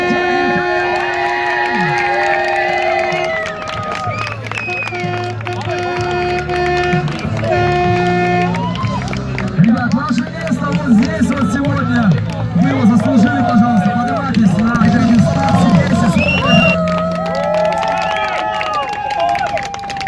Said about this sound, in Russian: Под яркие овации всех вас встречаем.